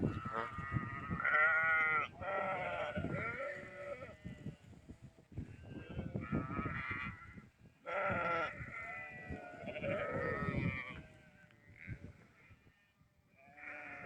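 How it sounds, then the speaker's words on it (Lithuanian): A flock of sheep with lambs bleating close by on a farm, many overlapping calls rising and falling throughout, with a person calling to them in between. "oi, kiek daug avyčių"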